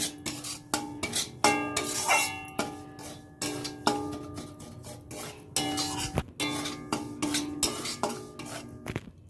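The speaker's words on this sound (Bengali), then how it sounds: "সুজিটা হালকা করে একটু ভেজে নেব" Semolina roasting lightly in a pan for homemade gulab jamun, stirred with a metal spoon that scrapes and clinks against the pan in a quick, steady rhythm of close, sharp strokes, with no talking.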